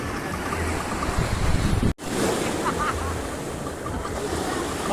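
Surf rolls in continuously at a beach in San Juan, Batangas, a loud, close wash of breaking waves with wind buffeting the microphone and a brief dropout partway through.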